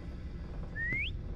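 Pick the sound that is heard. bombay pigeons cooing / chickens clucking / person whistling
person whistling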